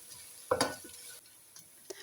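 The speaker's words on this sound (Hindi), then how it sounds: "प्याज को हम फ्राई करेंगे।" Sliced onions frying in oil for peas pulao, with a brief clatter of a spoon stirring in the pan over a faint steady sizzle, followed by a couple of small taps.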